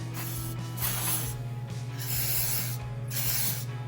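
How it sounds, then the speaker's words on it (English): Contact cleaner is sprayed onto the steering motor of a 1980 Radio Shack Porsche 928 RC car, in three loud hissing bursts close up over a steady electrical hum. "I'm gonna clean it off with some contact cleaner"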